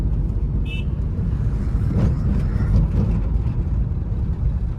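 Steady road traffic rumbles past at a roadworks stretch with container lorries, a dense low engine drone throughout with a brief higher whine early on, no voices.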